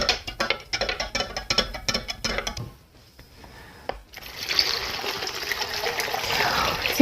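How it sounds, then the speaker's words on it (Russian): Cold water with dissolved sugar and salt is poured over apples in a jar for soaked village-style apples, a steady close splashing stream that pauses briefly before a fuller, continuous gushing pour, with no talk. "и заливаем наши яблоки"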